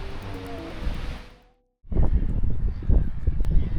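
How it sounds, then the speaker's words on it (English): Strong wind blasting across a campsite, a roaring rush that fades briefly to near silence, then returns in loud buffeting gusts against the microphone. "The wind is still blasting."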